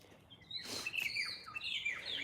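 Several birds chirp and tweet in quick, overlapping calls, fairly close and clear against a quiet outdoor background.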